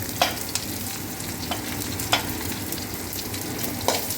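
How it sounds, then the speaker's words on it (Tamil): Two hundred grams of onions hitting the pan for a goat brain fry, a steady loud sizzle with a few sharp spatula taps scattered across it. "இரநூறு கிராம் வெங்காயத்தை நான் இப்படி போட்டுக்கிறேன்"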